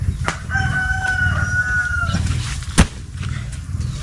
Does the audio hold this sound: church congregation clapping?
no